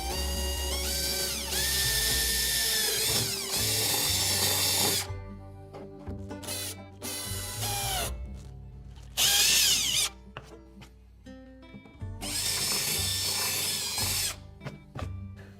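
A power drill whines loudly in several bursts, starting and stopping between quieter pauses, drilling holes close at hand while installing a kayak stabilizer outrigger.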